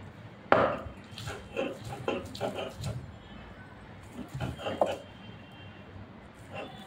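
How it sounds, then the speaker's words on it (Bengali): Boiled small potatoes, still in their skins, are ground on a stone slab, making irregular thuds and scraping knocks in uneven bursts, with a person talking quietly alongside. "এখানে এখন আমি আলুটা বেটে নিব, সিদ্ধ করে রেখেছিলাম।"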